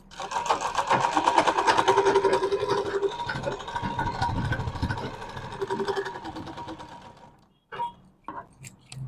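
A sewing machine stitches seams on a medium-size bag, running in a steady mechanical whir for several seconds near the mic, then easing off into short, sparse bursts toward the end.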